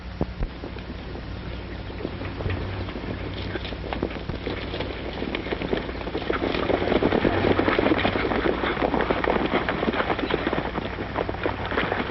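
Horses clip-clopping on a Western trail in an old black-and-white film, a busy stream of overlapping hoofbeats that grows louder and closer midway, with wind noise underneath.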